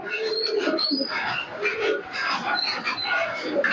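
Pigeons of fancy breeds kept in a home loft coo softly in low, throaty bursts, with faint chirps and background clatter, close by and without talk.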